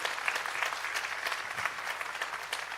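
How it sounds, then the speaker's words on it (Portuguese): A church congregation applauds together in a dense, continuous wash of clapping that holds steady at moderate loudness for a few seconds, with no voices standing out. "Vamos aplaudir ao Senhor pela vida de cada um."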